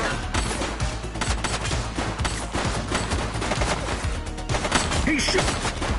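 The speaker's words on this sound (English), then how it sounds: "Shots fired!" Repeated gunshots ring out in a police video game, a steady run of loud sharp bangs layered over music and game noise.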